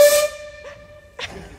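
A short, high toy-like miniature train horn at Mcleans Island, Christchurch, toots once, followed by two brief softer bursts with quiet gaps between them.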